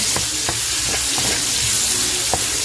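Chopped onion and garlic frying in a pan for a Kapampangan sipo egg dish: a steady, close sizzle with a few sharp spatula scrapes and taps scattered through it.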